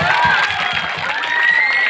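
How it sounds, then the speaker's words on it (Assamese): Crowd applause and cheering from an outdoor Bihu stage event audience, loud and continuous, with shouts mixed into the clapping. "মই ৰিকুৱেষ্ট কৰিছোঁ এটা হাত চাপৰি"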